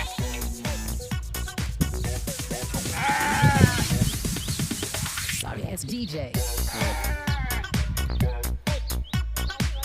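Goats penned in a farm enclosure bleat repeatedly as fresh alfalfa fodder is tossed in, their calls mixed with steady talking and rustling throughout.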